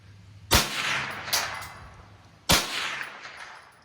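Two sharp .22LR rifle shots with CCI Stinger ammunition crack out about two seconds apart outdoors, each trailed by a ringing echo, and a fainter clang follows the first shot.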